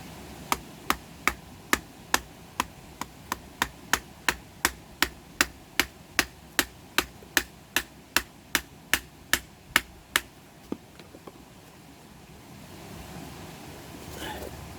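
An Emerson Commander knife strikes half-inch fresh oak in a steady series of about thirty sharp, evenly spaced chops, close and loud, before the blows stop and a quieter background remains.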